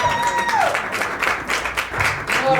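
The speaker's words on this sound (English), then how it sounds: "Keep it clapping." A live podcast show audience applauds steadily, dense clapping filling the room throughout with a few brief tonal sounds over it.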